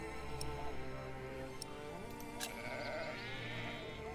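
Sheep bleat in The Pillars of the Earth video game, with a few drawn-out bleats over a quiet, steady ambient background.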